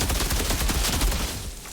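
Rapid gunfire from a video game, dense close bursts of shots crackling steadily for under two seconds.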